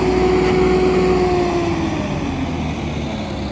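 A Swaraj 969 FE CRDI 4x4 tractor engine runs close by with a steady, loud drone and a slight pitch shift as it works, with no talking over it.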